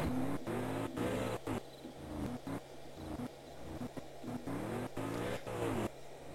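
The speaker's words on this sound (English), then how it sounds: "I'll turn on the car sound now" Engine of a racing-sim car in a video game revving and accelerating through gear changes, with repeated rising pitch sweeps broken by brief shift gaps, loud and steady throughout.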